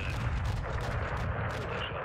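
Dense, continuous explosive gunfire and booming blasts with a rocket launch in a Call of Duty: Modern Warfare II battle on a convoy, loud and sustained throughout with no pauses.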